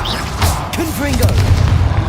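A Confringo blasting-spell explosion in Hogwarts Legacy lands as a short booming burst amid the clatter of spell combat, while a voice speaks over the action.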